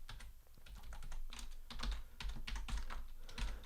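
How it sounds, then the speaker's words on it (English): Fast, steady typing on a computer keyboard, with close, crisp key clicks pattering in an uneven rhythm throughout, no voice over it. "So I'm going to type style equals,"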